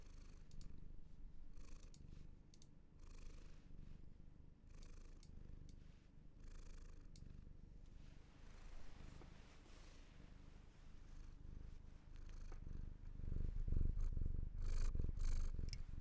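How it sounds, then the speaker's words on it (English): A cat purrs softly and continuously up close, a low rumbling rhythm with occasional faint rustling, no talking. "Wonder if you guys can hear her purring."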